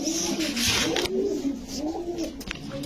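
A young Oman Teddy pigeon at a pigeon sale gives repeated soft, throaty coos in a rolling rhythm, close by, with faint background noise.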